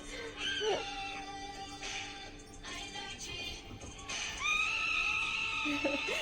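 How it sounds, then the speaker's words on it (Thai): A concert crowd at the Coachella Music Festival 2022 screams in high, wavering shrieks that rise and fall over a continuous roar, heard from a distance and fairly faint. "เสียงกรี๊ด"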